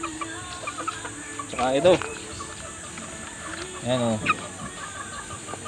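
Young Black Pumpkin hatch chickens cluck in two short, close bursts against a quiet farmyard background, while someone speaks briefly between them.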